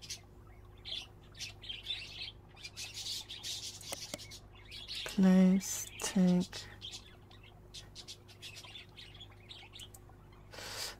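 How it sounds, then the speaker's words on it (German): Chirping birds in the Exotica video game, a few short bright tweets around the middle over steady game ambience, with someone speaking German over it. "Und Vögelchen."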